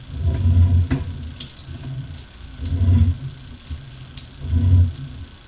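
Cooling water running through a sewer pipe, a rushing, gurgling flow that surges in three roughly evenly spaced bursts, fairly close and alone with no voices.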